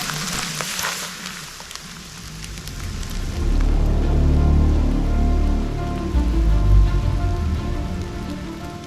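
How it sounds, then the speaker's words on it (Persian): Heavy rain pouring down at an outdoor wilderness campsite, a dense steady roar of drops hitting surfaces that swells louder and deeper partway through, close and continuous, with no voices. "بارون خیلی شدید شد."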